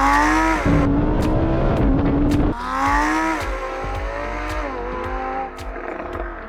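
A 2021 Lamborghini Huracan Evo RWD launches hard using launch control, its engine roaring through rising revs with quick gear shifts cutting in, loud and close, with no voices.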